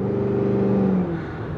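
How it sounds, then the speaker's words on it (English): The exhaust of a Cadillac Escalade-V, a luxury SUV, drones loudly and close as it accelerates, its steady tone holding and then easing off after about a second. "The exhaust burbles are ridiculous too."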